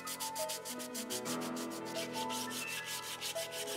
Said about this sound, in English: Now finally, sanding.